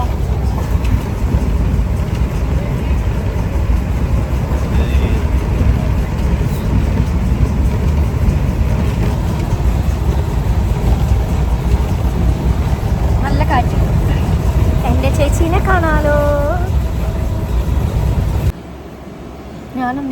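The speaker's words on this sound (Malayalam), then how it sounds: "ഞങ്ങൾ ട്രെയിനിൽ കയറി കുറച്ചു നേരമായിട്ടോ" Steady loud rumble and rattle of a moving train heard from inside on a trip to Kochi, continuous throughout, with a few rising tonal squeals near the end.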